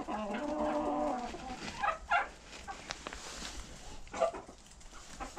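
A broody Silkie hen gives a drawn-out, tonal call up close, then soft, scattered clucks and murmurs follow quietly.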